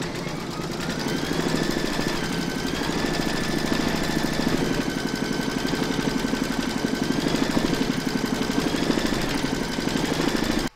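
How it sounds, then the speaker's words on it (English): An embroidery machine stitches a round of a large llama appliqué in a hoop, giving a loud, steady, rapid mechanical buzz with even stitch pulses that runs alone and stops abruptly at the end. "You're now going to pop that back into your machine and stitch round number seven"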